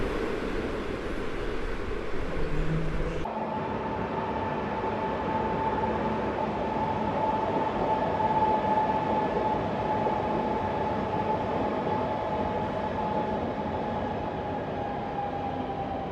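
A train passes through Kraków Główny station with a steady, loud rolling rumble and a sustained tonal whine, after a brief louder burst at the start.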